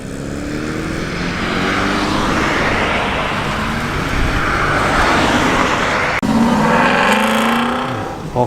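A classic Porsche 928 pulls away from a classic car gathering, its V8 rising into a loud, sustained roar that swells and holds, with a second engine note joining near the end.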